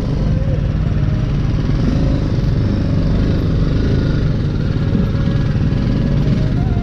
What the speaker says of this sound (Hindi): फिर हम बाइक मोड़ते हैं